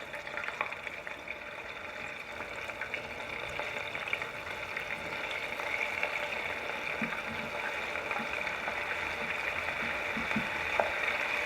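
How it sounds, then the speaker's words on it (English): Chicken pieces deep frying in oil in a deep pot, giving a steady, fine crackling sizzle with scattered small pops, moderately close and continuous, with no talking. "You hear that sizzle?"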